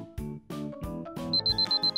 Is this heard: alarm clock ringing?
yes